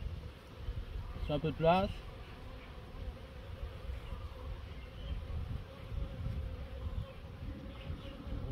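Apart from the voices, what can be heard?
honeybee workers buzzing in opened hive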